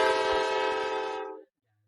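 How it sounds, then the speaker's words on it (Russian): A train horn sounds one long, loud, steady harmonic blast close by, with a low rumble underneath, then cuts off abruptly, leaving near silence. "Прибыл поезд."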